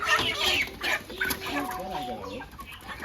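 Chickens cluck continuously and fairly close as a flock is loaded onto a vehicle at a poultry farm, with overlapping calls and busy handling noise throughout.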